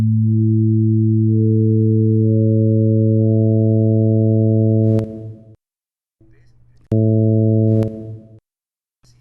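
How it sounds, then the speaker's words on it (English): Steady pure tones of a harmonic series stack up one by one into a harmonic chord over the fundamental, sustained for several seconds, then cut off briefly and return as a full chord. "you're going to hear a combination of those pure tones"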